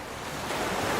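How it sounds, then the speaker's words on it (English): Churning Arctic ocean surf stirred up during an orca hunt on a narwhal pod, a steady broadband wash of waves that swells slightly louder over one second, with no voices. "The sound of churning waves and tails slapping hard against the surface echoes through the freezing air."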